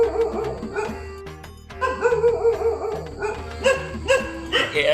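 A group of dogs barks repeatedly nearby, mixing sharp yelps, deeper woofs and a few whimpering whines in irregular bursts, with no voices.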